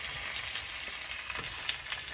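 Eggs and smoked pork fat fry in a pan with a dense, steady sizzle and crackle, close and continuous, with a few sharper pops and no voices.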